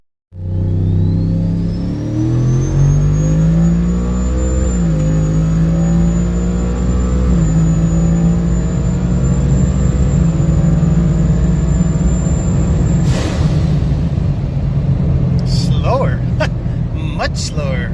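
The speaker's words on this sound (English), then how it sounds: "I'm gonna brake boost it and see if that does any different, if it actually upshifts when we want it to." A turbocharged Ford F-150 pickup launches hard from a brake boost and accelerates in second gear, its engine droning loudly with rising pitch and a turbo whine, then easing off near the end, heard from inside the cab.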